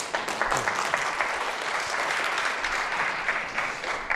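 An audience at a Seoul National University forum on Korea–Japan relations applauds a former ambassador after his lecture, loud, sustained clapping from many hands filling the hall.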